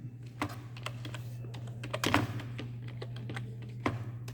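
Fingers type on a computer keyboard in quiet, irregular taps with a brief flurry of louder keystrokes midway, over a steady low electrical hum.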